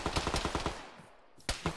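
Rapid bursts of rifle or machine-gun fire in an Arma military game, a quick string of sharp cracks followed by a short pause and then two more shots, fairly close.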